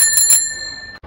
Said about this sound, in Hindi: घंटी है।